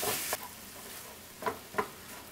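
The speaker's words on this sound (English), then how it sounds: "Get our sausage going. Kind of break it up as you're cooking it." Turkey sausage sizzling quietly in a pan while being broken up, a faint frying hiss with three soft scraping stirs spaced apart.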